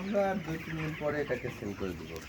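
Broiler chickens on a farm in winter cluck in a steady, busy chorus close by, with a voice talking over the flock.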